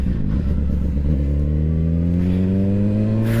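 Engines of buses passing on a road, a deep motor drone with rising, steadily climbing harmonics as a vehicle accelerates close by, loud and continuous with no talk.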